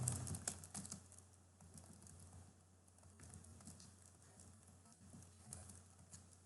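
Fingers tap a computer keyboard in quick, light, irregular bursts, soft and close, with a louder flurry of keystrokes at the start, then quieter scattered taps and faint room noise.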